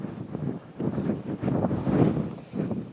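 Strong gusting wind on Blencathra mountain during a winter storm, buffeting the microphone in waves of low rumbling roar that swell and ease over a few seconds.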